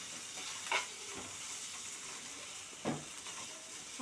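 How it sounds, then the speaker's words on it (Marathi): Onions with turmeric sautéing in a pan, a steady soft sizzle broken by two louder stirring scrapes near the start and toward the end. "हे बघा, कांदा एकदम छान असा परतलेला गेलेला आहे"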